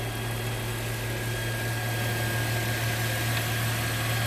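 A Land Rover Freelander 2 with the 3.2 litre Volvo petrol engine idling automatically, a smooth steady low hum that stays even and continuous throughout with no talking over it.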